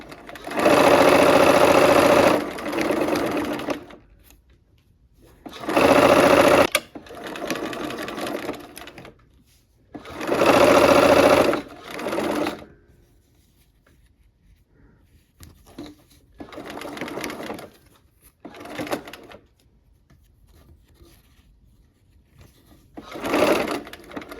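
A sewing machine stitches the last seam of a quilt X block in bursts of rapid whirring, several loud runs with quiet pauses between them and softer short runs later.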